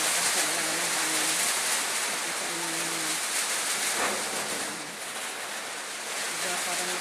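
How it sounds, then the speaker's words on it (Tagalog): Strong typhoon wind and heavy rain roar as a dense, steady broadband wash throughout, with a faint voice speaking beneath the storm noise. "Ay, sobrang lakas talaga ng hangin."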